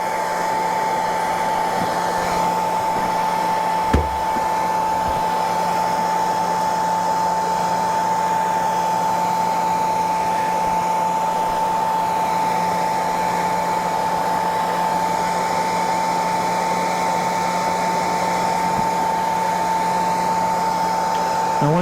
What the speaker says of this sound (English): I'll go over it with a heat gun again and a clean rag